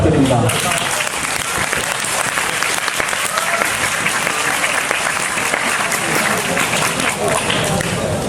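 A packed high school audience gives a lecturer on Dokdo a hearty round of applause, a loud, dense and sustained clapping that fills the hall evenly for several seconds without a break.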